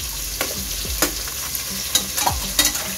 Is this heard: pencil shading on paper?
no